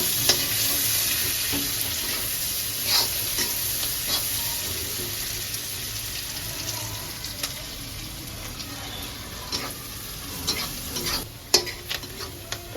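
Onions and ground spices frying in a pan over a low gas flame for a hilsa curry, a dense close sizzle with repeated stirring scrapes and clinks that thin out toward the end.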